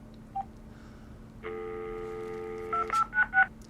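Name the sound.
VTech cordless phone dialing number, keypad tones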